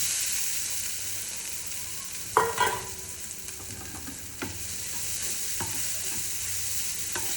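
Ground cooked dal for paruppu usili fries in a pan, a steady soft sizzle with a sharp clatter as it goes in, then a few spoon scrapes, without speech.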